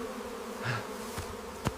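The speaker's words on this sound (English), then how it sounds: "This is the calmest I have ever seen someone get attacked by a storm of bees." A swarm of bees in an AI-generated video gives off a brief, faint buzzing that swells for a moment, with a couple of sharp clicks after.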